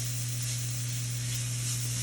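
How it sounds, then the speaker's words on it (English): Vegetables with thyme sizzle and fry steadily in a pan while being stirred, a close, constant hiss over a low steady hum, with no talk. "you're just gonna give this a good stir and cook it for about 30 seconds"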